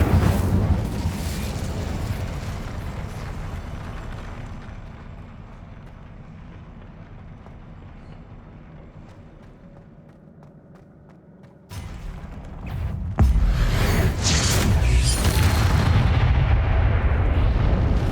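Spell blasts and magical impacts from combat in the Hogwarts Legacy video game, a steady rumbling barrage that drops away briefly, then returns as louder, denser bursts with sharp cracks.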